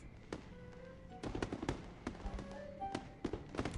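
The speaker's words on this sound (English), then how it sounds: "That's definitely fireworks." In the video game Infinity Nikki, fireworks go off as a rapid, irregular series of sharp pops and crackles. Several bursts cluster closely together at mid distance, with faint background tones beneath them.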